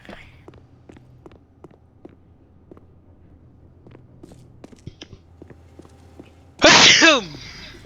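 One loud, close sneeze near the end follows several seconds of quiet room sound with faint clicks.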